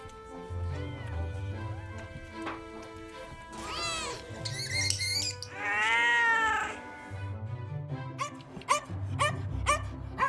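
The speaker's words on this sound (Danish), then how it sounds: "Og så kommer der en kattemor med en flok killinger." A mother cat with a litter of kittens at an animal shelter meows repeatedly in short rising cries, with one longer drawn-out wail near the middle, over a low background hum.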